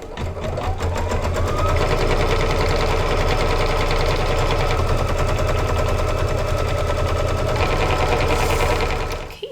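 An embroidery machine stitches a placement outline for a house appliqué, a loud, steady rapid needle rattle running continuously without pause, close up and alone.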